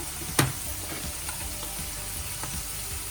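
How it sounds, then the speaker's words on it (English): Carrots, celery and other vegetables sizzle and fry steadily in a pan, a close continuous crackle with a sharp clatter near the start and a few lighter scraping stirs. "stir that through and let the vegetables cook for a few minutes"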